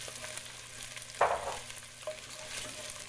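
Turkey chili ingredients sizzling on medium-high heat as they cook down in a pot, a soft continuous fry with one louder burst of crackle partway through as something is tossed or stirred.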